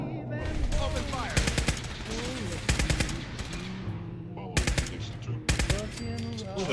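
Gunfire in the video game Fallout 4, several loud bursts of rapid automatic shots in clusters with a low backing score, and a voice speaking briefly between bursts.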